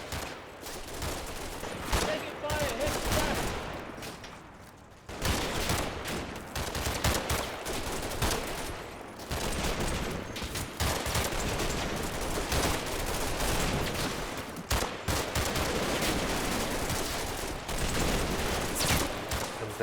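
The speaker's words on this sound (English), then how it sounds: "There's still SS resistance, and they get caught in the enfilade fire." Gunfire in the Combat Mission World War II strategy game, dense continuous fusillades of rifle and machine-gun fire with brief lulls, loud and sustained throughout.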